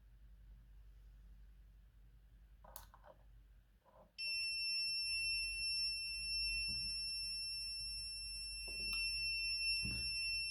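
After a few faint clicks, a loud, continuous high-pitched electronic alarm from a smart alarm system using a Sonoff ZBMINI relay switches on abruptly when a magnetic contact opens, and keeps sounding steadily.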